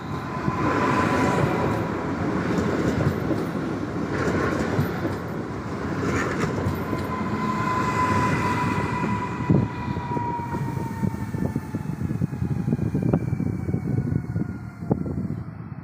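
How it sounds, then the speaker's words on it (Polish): A Regio regional electric multiple unit, ED78-021, rolls into Szczecin Główny station, wheels rattling and clacking over rail joints under a rising, whining traction hum and a long drawn brake squeal, loud and close. "wjeżdża pociąg Regio Regalica, racji Szczecin Główny, Zielona Góra Główna"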